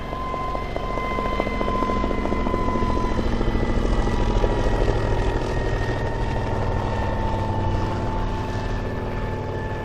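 A crop-spraying helicopter flies over a sunflower field, its rotor and engine drone loud and continuous throughout, heard alone with no talking.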